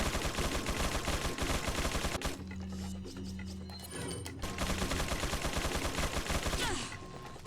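Gatling gun fire from an enemy in Resident Evil 4, a loud continuous rattling burst that stops briefly midway, then resumes heavy and sustained.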